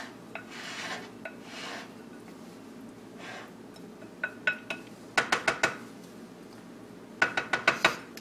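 A metal spoon stirs black bean quinoa salad with fresh ground pepper in a cooking pot, starting with soft scraping and then breaking into quick bursts of sharp clinks against the pot's side, close and fairly quiet.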